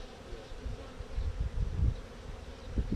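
Honey bees hum softly inside an open beehive during a beekeeping lesson, a low, faint, steady buzz that continues without any talk.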